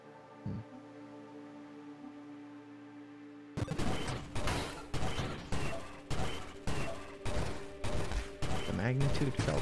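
Shotgun bursts from a ship in the space shooter game Nova Drift, a rapid series of loud broadband blasts repeating about every half second after a quiet opening, with game music humming underneath.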